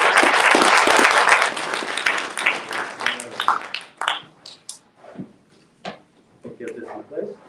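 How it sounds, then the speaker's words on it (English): Audience applause at a talk on the Lebanese crisis, dense clapping for the first few seconds that thins into scattered claps and fades as a speaker talks over the tail. "how about a round of applause for him?"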